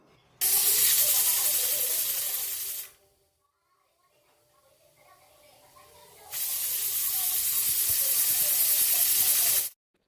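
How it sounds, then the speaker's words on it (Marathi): A pressure cooker cooking village-style spicy mutton curry lets out two loud, sustained whistling hisses of steam, each lasting a few seconds, separated by a quieter stretch of faint background noise. "आणि कुकरचं झाकण लावून तीन ते चार शिट्या काढून घेऊया"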